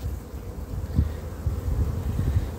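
Honeybees at a beehive give a low, continuous buzz close to the microphone, with soft wind-like rustle and a few louder bumps, and no one talking.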